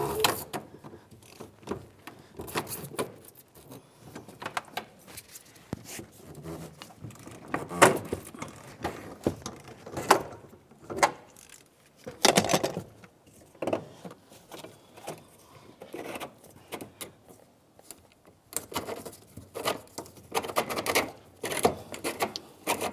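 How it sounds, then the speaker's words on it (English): A long 1/2-inch drive ratchet loosening the fuel pump locking ring on a 2009-2010 Pontiac Vibe, scattered clicks and metallic scraping bursts spread irregularly with quiet gaps between. "we're going to be using a long 1/2-inch drive ratchet. Get this on here, turn it counterclockwise to remove the locking ring."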